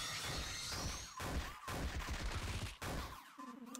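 A gunshot attack in Lisa RPG bursts out as a dense, crashing volley of rapid shots, loud and continuous with brief gaps, ending in a ringing tone and no talk.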